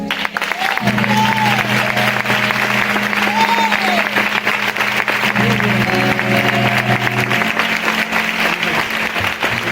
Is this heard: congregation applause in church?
yes